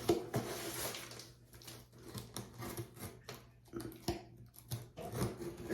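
A blade slices and tears through a cardboard shipping box from the bottom side during an unboxing, with irregular close scrapes, rubs and sharp ticks spaced through the cut.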